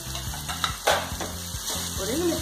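Cucumber sabzi seasoned with salt, turmeric and garam masala fries with a close, bright sizzle in a pan, while a spoon stirs it with scrapes and light clinks against the metal.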